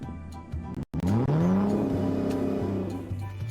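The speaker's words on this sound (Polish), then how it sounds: "Samochód osobowy." A car engine revs up loudly and close, the pitch sweeping upward and then holding, with a steady low tone beneath.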